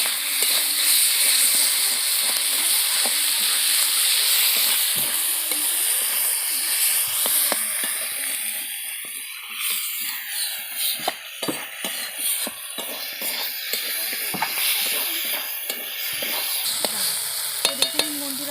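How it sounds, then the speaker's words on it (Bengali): Spice paste with turmeric and chilli powder frying in oil, a loud, steady close-up sizzle with continual stirring scrapes that grow busier and more clattery toward the end. "এবার ভালো করে মশলাটাকে কষিয়ে নেব।"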